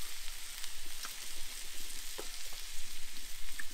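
Onions frying in a pan at an outdoor barbecue, a steady broad sizzle with faint scattered crackles and a few soft clinks, continuous and fairly close, no voices.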